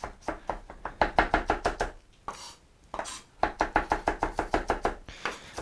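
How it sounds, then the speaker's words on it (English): A knife finely mincing onion for guacamole on a cutting board, in quick, even bursts of rhythmic chops with a brief pause between runs, close and clear with no talking. "And just chop it until it's really thin."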